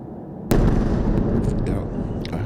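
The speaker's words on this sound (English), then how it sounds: "That was a dumb munition. That was a vertical drop." An airstrike with a dumb munition dropping vertically ends in a sudden loud blast, then a long rumbling roar of the explosion rolling through the street-fighting soundscape, with voices faintly in the background.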